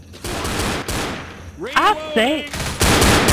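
Bursts of close gunfire from a Left 4 Dead shooter striking a teammate, dense crackling volleys at the start and end with a short spoken exclamation and tonal game sounds in between.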